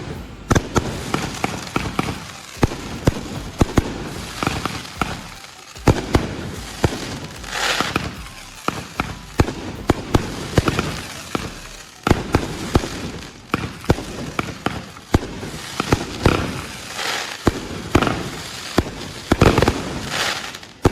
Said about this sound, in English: let's go ahead and showcase you guys these 4 amazing cakes from Pyro 𝗬𝗲𝘀